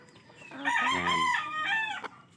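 A single gamecock of the Bruce Gray Hatch line crows once nearby, a drawn-out harmonic cock-a-doodle-doo of about two seconds that rises, holds and trails off, heard alone without talk.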